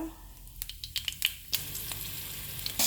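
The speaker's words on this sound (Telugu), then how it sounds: "పోపు అండి ఇది నార్మల్ పోపే" Mustard-seed style tempering spices crackle and sizzle in hot oil, starting with a few sharp pops and then settling into a steady, close frying hiss.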